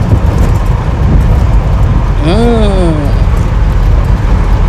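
Steady engine and road drone from inside a moving Mahindra pickup truck on an expressway, loud and continuous, with a brief wavering horn-like tone near the middle.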